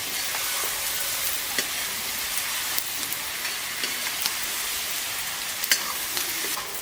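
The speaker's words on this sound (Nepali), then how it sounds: "अब यसमा बेसार एड गर्ने र अब यसलाई पनि चलाउने" Mutton curry with turmeric being stirred in a pan: a steady, close sizzle runs throughout, with scattered sharp scrapes and clicks from the stirring and no voices.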